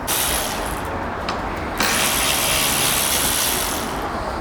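Screws being backed out of the front bumper on a Mercedes A Class, a steady close mechanical whirring and ratcheting of a driver that runs nearly throughout, with a brief pause just before the middle.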